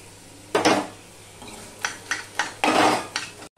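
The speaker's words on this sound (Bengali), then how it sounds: "ভেন্ডিগুলো আমি ভালো করে হাতা দিয়ে পেস্ট করে দিচ্ছি" Boiled okra is mashed with a ladle in a pan for a Bengali bhindi bharta, making a few irregular clattering metal-on-pan scrapes and knocks close up, with quiet pauses between them.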